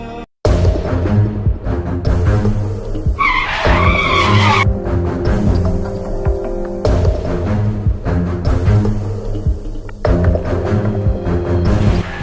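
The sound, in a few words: car skidding to a stop, nearly running someone over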